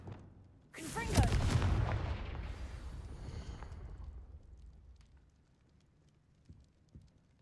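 Confringo fire spell blast in Hogwarts Legacy: a sudden loud fiery burst that rumbles and slowly fades over several seconds, followed by faint scattered thuds.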